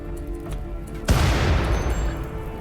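A Doomsday rocket launcher blast in the RimWorld video game lands as one sudden, loud boom with a broad crackling burst that rumbles on for over a second. Faint game background sounds come before it.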